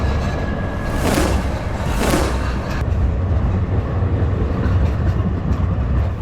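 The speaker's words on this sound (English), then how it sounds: "So we are waiting for the nostalgic trams that will be taking us to our next destination." A nostalgic tram in Antalya rolls along its rails with a loud, continuous rumble and two sharp clanking bursts early on, heard close and without talk.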